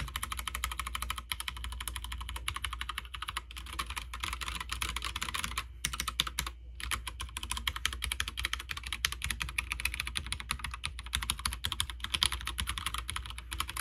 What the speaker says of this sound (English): we're just going to do a sound test